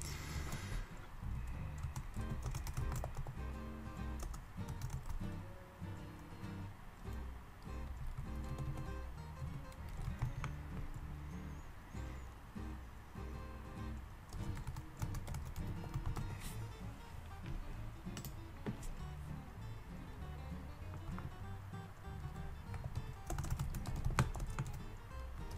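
Computer keyboard typing while an email subject line is entered: a long run of soft, quick key clicks with short pauses, steady and fairly faint throughout, with no one speaking.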